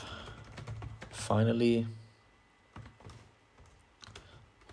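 Clicks of a computer keyboard as code is typed, a rapid patter at first and then sparser individual keystrokes, with a spoken word briefly over the typing.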